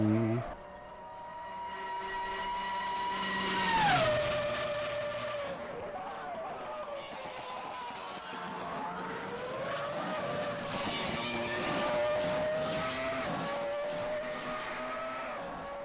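Race cars at Interlagos in a racing video game, a high engine whine rising and falling through gear changes and corners, loud and close, with speech over parts of it.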